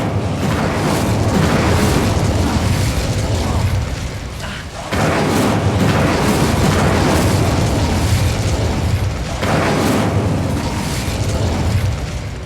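An Incendio fire spell blasts in Hogwarts Legacy: a loud, sustained roaring burst of flame with heavy rumbling low end, briefly dipping before surging again and continuing at full force.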